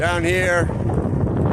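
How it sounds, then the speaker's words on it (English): Strong wind blows outdoors on a New England road after a spring snowstorm, a steady roaring rush buffeting the microphone while a person speaks briefly at the start. "It's still pretty windy out here."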